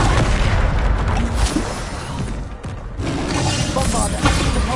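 Explosive spell blasts in the Hogwarts Legacy video game on PS5, a dense, loud, continuous rumble of booms and crashes layered with battle effects, with a brief dip midway before the barrage resumes.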